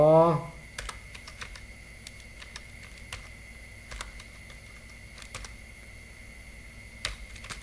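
Someone types on a computer keyboard to rename an Excel sheet, with sparse, light keystrokes close at hand and an irregular rhythm after a brief sound at the start.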